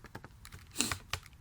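A computer keyboard is tapped in a quick, uneven burst of close keystrokes while text is entered, with no talking.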